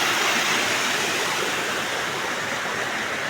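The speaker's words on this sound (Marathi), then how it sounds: "जेव्हा असा धबधब्यासारखा पाणी पडतं" River water pouring down like a waterfall during a crab-trapping trip, a continuous broad, hissing rush that holds steady and loud throughout with no voices.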